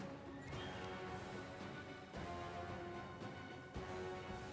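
Several horse whinnies and neighs ring out in fright, mixed with crashing thuds, against a continuous background of noise in the video game Pathfinder: Wrath of the Righteous.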